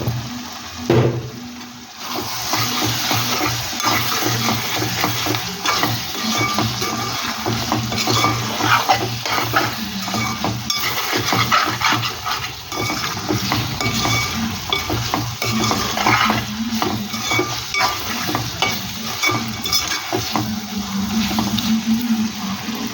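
Andhra-style mutton curry with chili powder fries in a pan, a loud, dense sizzle mixed with busy stirring and scraping against the pan throughout, with no voices.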